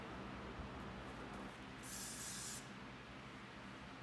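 Hairspray goes onto a ponytail in one short, bright hissing burst of under a second, faint against a low background rumble.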